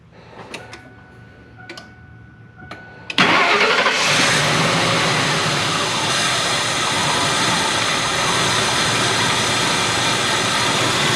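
A Ford F-250 fresh from maintenance cranks briefly after a few faint clicks and catches with a sudden loud roar. It then settles into a steady, close, broadband engine rumble.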